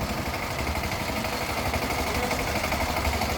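Motorboat engine crossing a haor wetland lake near Itna, Kishoreganj, a steady close low rumbling drone with a rough pulsing texture throughout.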